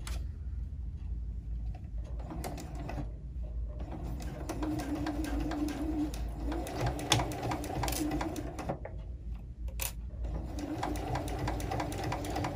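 A sewing machine runs slowly and steadily while stitching a pleated fabric face mask, its close, continuous mechanical hum broken by brief dips and a few sharp clicks.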